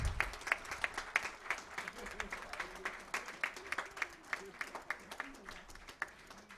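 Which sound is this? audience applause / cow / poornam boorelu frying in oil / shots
audience applause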